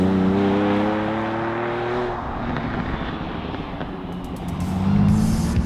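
A Lamborghini Diablo engine drones with a low harmonic tone, fades into rough rumbling, then swells again as it revs up close by.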